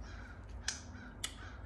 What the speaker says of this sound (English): excuse the birds, because it feels good outside today.